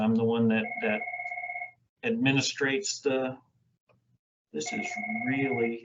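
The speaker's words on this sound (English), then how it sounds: "I'm sorry about that phone ringing." A telephone rings in bursts of steady, sustained tones under a person speaking, pausing briefly between rings.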